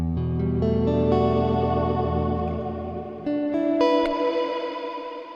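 Electric guitar chords through a Strymon Cloudburst reverb pedal ring with a thick, lush reverb and chorus-like shimmer, notes blooming and trailing off into a long ambient tail.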